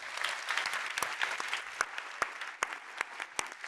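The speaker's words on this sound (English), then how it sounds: "So a big round of applause for this panel." A conference audience applauds a tech panel discussion as it ends. The clapping is fairly soft and even, with a few crisp, distinct hand claps popping out of the steady patter.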